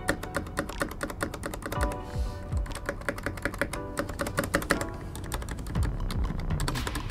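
Steady, moderately loud keystrokes on a DareU EK1280S keyboard, including long keys like space and shift, come as a rapid run of clicks and thocks with brief pauses, with no voices.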